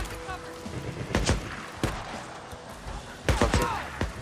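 Bursts of gunfire in the video game Days Gone, several sharp loud shots spread unevenly across the moment, over a busy game background.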